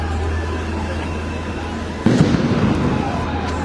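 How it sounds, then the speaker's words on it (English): Flashbangs from tear gas canisters go off during a street protest in Nairobi: a single sharp bang hits suddenly after a low rumbling street ambience, followed by louder crowd and crackling noise. "The flashbangs you're hearing, that's from the tear gas canisters going off."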